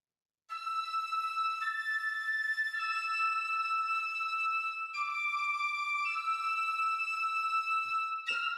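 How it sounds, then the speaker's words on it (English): A bright, piercing sustained chord of blended woodwind tones, shifting through a few held notes, played alone without other instruments. "this is actually a blend of woodwinds on one patch"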